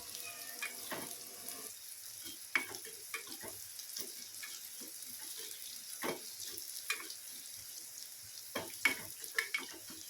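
Garlic fries in oil in a pan for pirandai chutney, a soft, steady sizzle with occasional small pops and stirring clinks close by.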